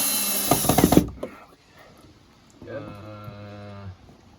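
A power drill whirs briefly beside a winter bushcraft cabin, a short buzzing burst at the start, followed by a steadier motor drone while people talk nearby.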